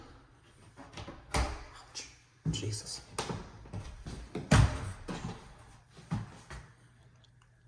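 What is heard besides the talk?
door opening and closing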